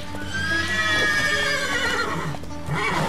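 Horses neighing and whinnying loudly and close in The Witcher 3: Wild Hunt, a long drawn-out neigh followed by a shorter one, with hoof clip-clops underneath.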